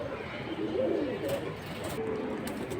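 Pigeons at a busy pigeon market cooing softly and repeatedly in close range over a low background murmur, with faint voices and a few knocks mixed in.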